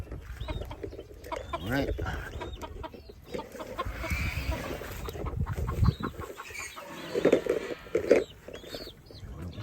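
Native egg-laying chickens cluck close by, with short bursts and soft clucks scattered throughout, while a person speaks briefly among them.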